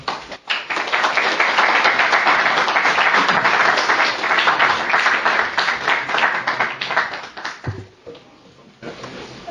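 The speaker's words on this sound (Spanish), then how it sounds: "que le demos la bienvenida con un aplauso" An audience at a university talk claps in welcome for an academic speaker, a full burst of applause close and loud for about eight seconds before thinning into a few scattered claps and quiet.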